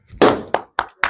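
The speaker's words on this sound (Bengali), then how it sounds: "হাততালি হবে।" Four sharp hand claps during a children's colour-calling game, the first longer and fuller, then three quick crisp claps spaced by short silences, close and loud.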